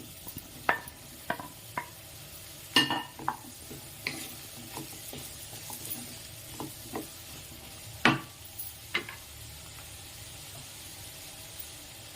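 Pumpkin pieces for curry go into a hot pan and sizzle softly under a low frying hiss, with scattered sharp clinks and stirring scrapes of a utensil at irregular intervals.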